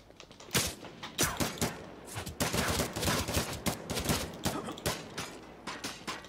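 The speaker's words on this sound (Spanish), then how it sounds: "Hay disparos." Gunfire in the survival video game Miscreated: a rapid burst of repeated sharp shots in an irregular rhythm, loud and close, with no talk over it.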